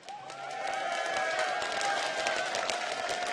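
A crowd cheers and applauds at the League of Legends Worlds 2012 esports event, a steady wash of clapping and shouting that swells after a quieter start, with a tonal hum underneath.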